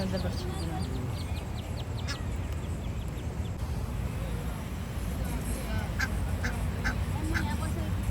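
Ducks at a park pond, with a few faint quacks and calls scattered over steady outdoor background noise and distant murmur.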